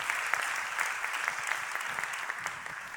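An audience claps for a keynote speaker from the World Health Organization at a YMCA World Council panel on community wellbeing and mental health; dense, steady applause from a crowd fills the whole stretch without talk.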